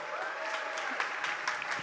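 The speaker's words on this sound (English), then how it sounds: "let's give another round of applause for all of our" A crowd applauds the finalists of a startup pitch competition, brisk, continuous clapping filling a hall, with a voice faintly present underneath.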